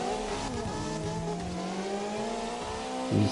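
A drift car's engine in CarX Drift Racing revs hard and steadily, its rising whine climbing, with a slight tyre rasp beneath and a short louder burst near the end.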